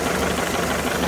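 A 1979 Mercruiser 3.0L 140hp marine engine fitted with a Delco Voyager EST ignition idles at about 900 RPM, giving a steady, loud, close rumble with a light knocking texture throughout and no talk.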